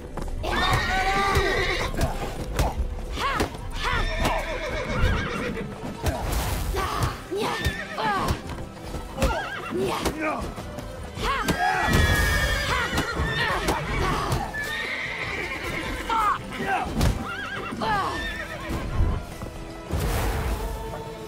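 Horses neigh and whinny repeatedly in The Witcher 3, mixed with clip-clopping hooves and occasional thuds, loud and close, with several sharp bursts and brief voices in the game under the commotion.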